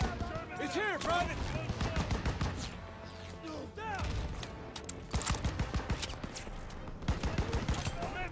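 Rapid bursts of gunfire and automatic weapon fire in Call of Duty: WWII during the Operation Cobra mission, dense overlapping shots with game music and voices running underneath.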